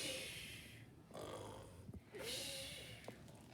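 Voices imitate snoring while reading a children's story about a bear, giving two or three breathy, snorting snores, each about a second long, fairly quiet and close.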